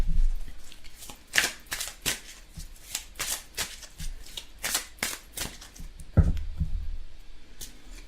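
Tarot cards are handled and drawn, giving a run of soft crisp flicks and slaps close by, irregular and quiet, with no talk.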